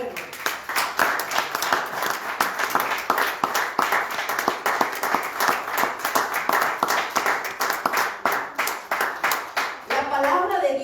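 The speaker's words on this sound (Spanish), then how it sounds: "Denle un aplauso al Señor, hermanos." Church congregation applauding in praise during a Spanish-language sermon, a steady dense patter of many hands sustained for about ten seconds, with a brief voice rising near the end.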